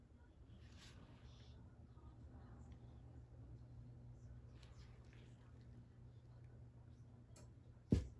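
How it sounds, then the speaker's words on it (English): A coffee maker clicking off with a single sharp, short click near the end, after a long stretch of quiet, low room hum. "And that's my coffee maker turning off."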